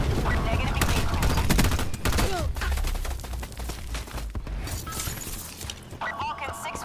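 A Vulcan gunship firing in Black Ops 4, sustained booming fusillades and crackling impacts for several seconds, with voices mixed into the battle noise.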